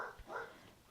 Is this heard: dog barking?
yes